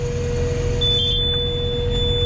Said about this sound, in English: I've had a buzzer going off telling me I'm low on seed